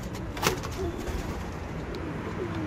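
Pigeons coo softly inside a newly built coop, a few low murmuring calls rising faintly over a quiet background with a light rustle.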